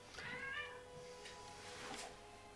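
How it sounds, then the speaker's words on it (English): Cats meowing and chasing each other somewhere in the background, faint wavering meows drifting in and out over a low room hum. "don't know if you can hear cats meowing in the background"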